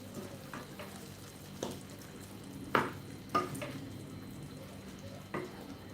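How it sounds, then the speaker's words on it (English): Peas being stirred into simmering chicken curry sauce, soft faint bubbling with a few sharper spoon scrapes and clinks against the pot spaced a second or so apart. "I add refreshing peas and keep stirring"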